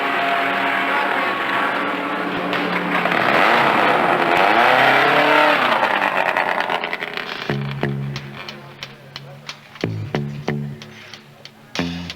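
A Spitfire race car's engine runs close and loud with a steady roar that swells and fades, then breaks into sharp, repeated revs and throttle blips before a rolling-start pace lap.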